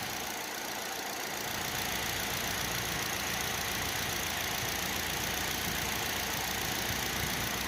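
A 2008 Pontiac G6 with a suspected fuel pump fault runs continuously, a dense steady engine drone with a slight fluttering roughness, close and unbroken throughout with no talking.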